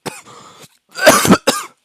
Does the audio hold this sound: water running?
no